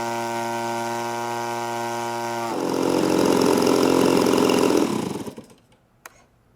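A 35-40cc gas engine on a Legend Hobby 87-inch Cherokee RC model plane idles with an even, humming buzz, then revs louder and rougher before cutting out and sputtering into near silence.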